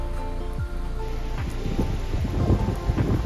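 Waterfall falling at Harishchandragad, a dense, continuous rushing roar of water heard nearby, with deep rumbling low end and splashing texture, no talk.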